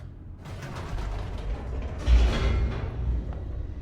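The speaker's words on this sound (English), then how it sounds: "The elevator raced downward, plummeting towards an unknown fate." Elevator in The Stanley Parable racing downward, a steady mechanical rumble with creaking and rattling that swells sharply around the midpoint and stays loud to the end, with no voices.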